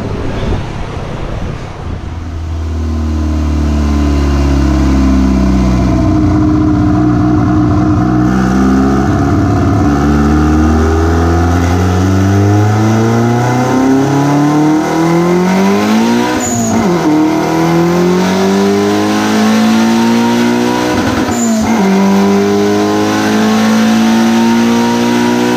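Boosted car on a dyno during a second-gear pull, engine revving hard and climbing steadily in pitch over a long sustained run, with brief shift-like dips and loud, close roar throughout.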